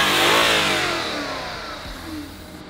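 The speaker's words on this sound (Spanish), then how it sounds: "¡Qué bonito, o sea, qué bonito el sonido atmosférico de este V8!" An Audi RS5's naturally aspirated V8 blips loudly, close by, then its pitch slides downward as the revs die away over a couple of seconds, with no voices present.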